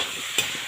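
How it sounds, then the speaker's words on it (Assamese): Pasta being stirred in hot oil in a wok, a close continuous sizzle and fry with a single sharper scrape of the utensil midway, no voices. "এইখিনি অলপ ভালদৰে লৰাই দিব, গোটেই তেলখিনি লাগি ধৰাকৈ লৰাই থাকিব লাগিব"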